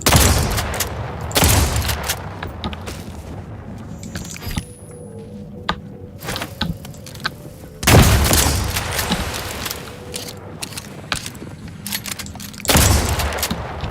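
Bursts of explosions and gunfire erupt in a chaotic brawl in The Outer Worlds 2, with loud broadband blasts at the start, around eight seconds and near the end, separated by lighter clatter and crackling.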